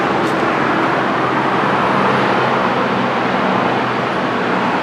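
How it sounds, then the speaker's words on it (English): Steady traffic roar from a main road beside Condado Lagoon National Park, a continuous, fairly loud wash of passing cars and heavier vehicles with no pauses. "Main road right next to National Park."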